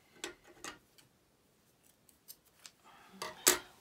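Several quick snips of household scissors cutting crochet yarn ends, sharp short clicks spaced irregularly in a quiet room, close and moderately soft.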